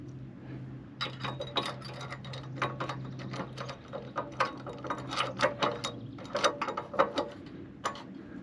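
A wrench snugging nuts with lock washers on a Cravot CyberRack S2 e-bike rack mounted on a Jeep Wrangler, rapid ratcheting clicks in bursts, close and moderately loud, over a low hum.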